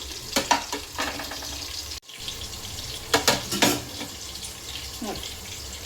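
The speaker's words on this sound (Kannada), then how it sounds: "ಈಗ ಒಗ್ಗರಣೆ ಹಾಕೋಣ." Tempering spices crackle and sizzle in hot oil for soybean biryani, with bursts of spluttering and stirring, a brief pause, then more sputtering close by.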